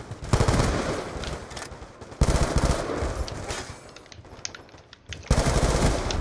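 Automatic gunfire in a Black Ops 2 gun game match, light machine gun firing in loud sustained bursts with two short pauses between them.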